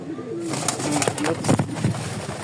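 Lahori pigeons coo close by, a few low, soft throaty coos in quick succession amid faint background noise.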